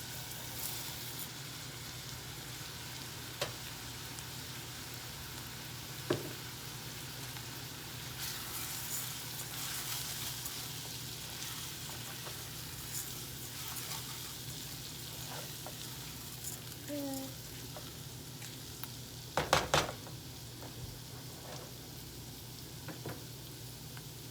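A cup of rice frying with softened onions in a pan gives a faint, steady low sizzle throughout, broken by a few soft clicks and a brief clatter of stirring near the end, with no talk.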